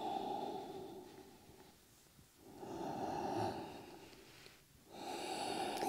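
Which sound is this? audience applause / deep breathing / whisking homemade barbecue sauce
deep breathing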